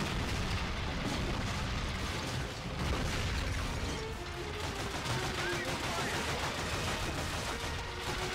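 Tank gunfire and battlefield mechanisms in the Call of Duty Finest Hour campaign, a dense, continuous rattle of shots and clanking over a faint voice.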